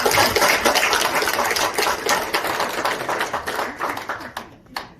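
An audience in a hotel convention room applauds after a lecture, a dense patter of many clapping hands that thins and fades out toward the end.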